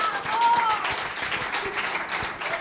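Theatre audience applauding a comedy performance, a dense wash of clapping filling the room for a few seconds, with a faint whistle near the start and a voice talking over it.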